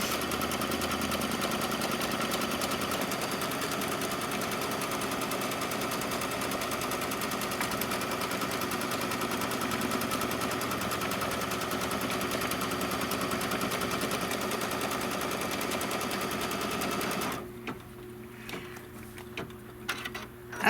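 A quilting embroidery machine stitches a rectangular tack-down line around a house design with a steady, fast mechanical whir and hum that runs unbroken, then cuts off near the end, leaving faint room noise.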